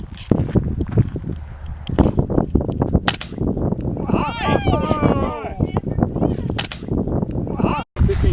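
Handgun shots crack at an outdoor shooting range, several sharp reports scattered among near, lively voices talking and exclaiming throughout, with shuffling and clanks between shots.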